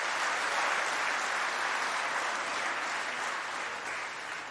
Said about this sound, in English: Give him a round of applause, Father Mike.